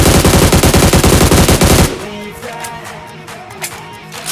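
An M4 rifle fires in a mobile battle royale game, a loud rapid burst of automatic shots lasting almost two seconds, then quieter game sounds with a few soft distant pops.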